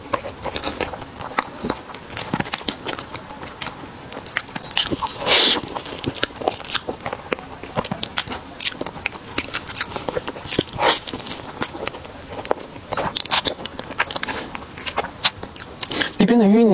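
Biting and chewing a bamboo charcoal crepe roll cake filled with cream, taro paste and mochi: close, continuous soft crunchy bites and wet chewing in steady repeated patterns, with no talking.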